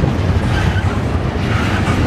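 A Norfolk Southern northbound intermodal train rolls past at a road crossing in Columbus, Ohio, with a steady, loud low rumble of the locomotive and wagons filling the short stretch without a break.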